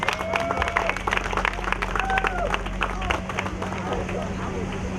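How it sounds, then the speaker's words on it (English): An audience at the Dayton AACF African Village KISS TV show claps and cheers for Miss Brenda Maron, steady applause with crowd murmur and a voice talking over it. "Let's clap it up for Miss Brenda Maron."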